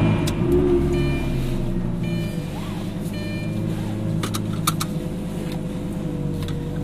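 A Lamborghini Gallardo supercar, started with a turnkey, runs with a steady, deep engine rumble close by, joined by a few faint clicks and ticks.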